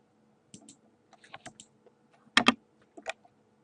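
A computer mouse clicking to publish a blog post, a few sharp, quiet clicks scattered among faint desk taps, close and without speech.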